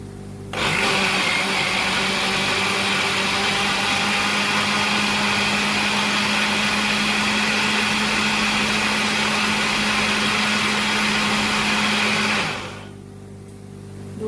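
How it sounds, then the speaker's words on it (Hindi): A mixer grinder blending mint chutney with yogurt and salt whirs loudly at a steady high-pitched whine for about twelve seconds, then winds down and stops, leaving near silence. "हम 2 मिनट में ये चटनी बना लेते हैं पुदीने की मिक्सी में।"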